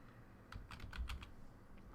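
Keys tapped in a short run on a computer keyboard while entering login credentials, a quick cluster of soft clicks near the middle, close and clear over a quiet room.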